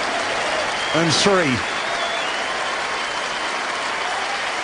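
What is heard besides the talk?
crowd applauding Hashim Amla's triple century in a cricket test match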